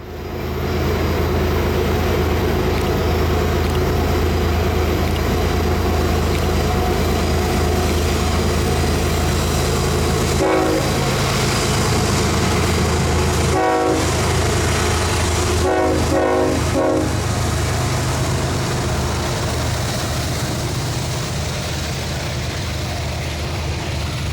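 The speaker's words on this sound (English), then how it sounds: "the sounds of these massive freights battling this grade are certainly memorable" A Kansas City Southern freight train labours up a grade with a deep, steady engine roar and wheel noise, its horn sounding in a few short blasts partway through, loud and close with no voices.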